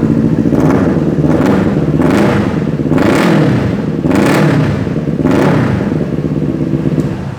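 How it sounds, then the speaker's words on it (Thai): A 2021 Kawasaki Ninja 400 two-cylinder motorcycle idles close by while the throttle is blipped in a series of quick revs, each rising and falling in a smooth, even rhythm. "เสียงสองสูบหวานๆเลยนะครับ"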